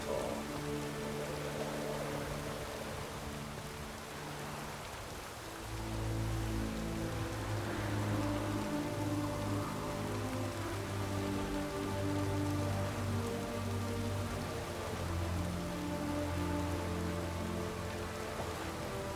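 Heavy rain pours steadily in a dense hiss in the video game The Witcher 3, with low droning tones and a soft musical hum underneath.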